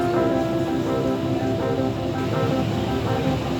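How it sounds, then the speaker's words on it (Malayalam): Floodwater overflows and rushes during heavy monsoon rain around Mangalore, a loud, unbroken roar of churning water that stays steady throughout with a faint low hum beneath it. "വെള്ളം കയറി മറിഞ്ഞൊഴുകി കൊണ്ടിരിക്കുന്നു."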